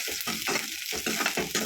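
Onions sautéing in a pan give a loud, close sizzle interrupted by rhythmic bursts of stirring and scraping, several strokes in quick succession, with no speech.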